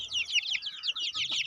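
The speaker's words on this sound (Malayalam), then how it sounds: "കാപ്പിരിക്കോഴി, മുള്ളൻ കോഴി എന്നൊക്കെ പറയും" Seventeen-day-old Kapiri naked neck chickens keep up a rapid, continuous run of high chirping calls, close by and without any talk.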